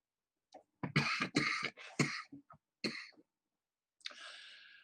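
A person coughs and clears their throat in a quiet room: a short cluster of sharp, close coughing bursts, then a pause and one final rasping throat-clear.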